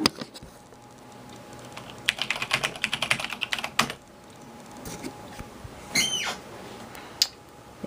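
Someone types a password on an old Cherry computer keyboard, producing a close, rapid burst of crisp key clicks followed by a few slower, separate presses and a louder final keystroke.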